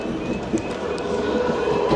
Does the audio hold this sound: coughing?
no